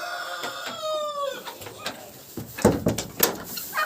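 A hen in a straw nest in a winter barn yard clucks and calls with a rising squawk, followed by rustling and thumping movement close by.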